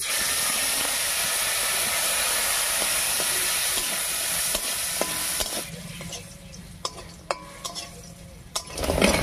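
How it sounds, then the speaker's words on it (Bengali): Lentil dumplings rubbed with turmeric and salt fry in mustard oil in a kadai, a loud steady sizzle that thins out midway into quieter bubbling broken by sharp clinks of a spatula stirring against the pan. "এবার এই তেলের মধ্যে হলুদ লবণ মাখিয়ে কয়েকটা ডালের বড়ি ভেজে নেব"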